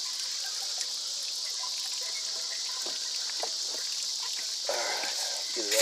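Milky water flushing out of an RV water heater tank during an anode replacement, a steady trickling and gushing stream that grows louder toward the end.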